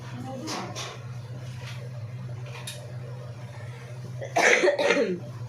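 A few muffled coughs near the start, then a louder burst of harsh coughing toward the end, over a steady low hum in a room.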